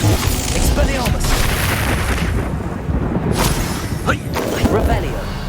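A spell cast in the Hogwarts Legacy video game lands amid continuous game noise, with sharp whooshing magical bursts and booming impacts near the middle and end, while a voice talks over it.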